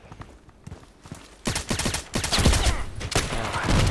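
Rapid gunfire from an automatic sniper rifle in the shooter game Contract Wars, with quiet scattered shots at first, then a loud, dense run of repeated bursts from about halfway through.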